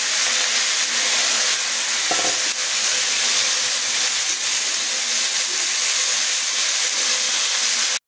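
Washed leafy greens frying in a pan, a loud continuous sizzle and hiss of steam that holds steady throughout, with one brief stir or clatter near the start.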